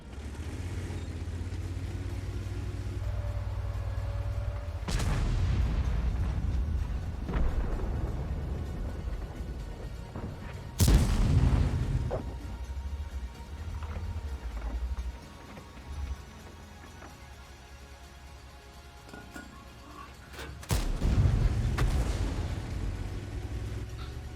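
Heavy tank cannon shots and explosions from World of Tanks boom out as a few sharp, loud blasts spaced several seconds apart, over a constant low engine rumble.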